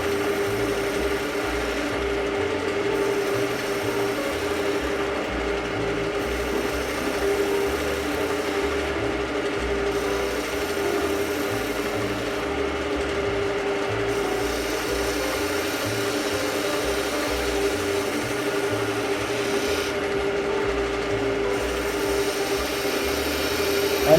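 Skew chisel cutting a bead on a spinning wooden workpiece on a woodturning lathe, a steady motor hum with continuous light scraping and cutting noise throughout, close and even, with no voices.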